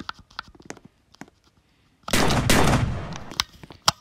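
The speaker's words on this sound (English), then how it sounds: "I'm just gonna shoot him." Gunfire in a Roblox shooting game: scattered sharp single shots, then a loud sustained roaring burst for about a second and a half, followed by a few more isolated cracks.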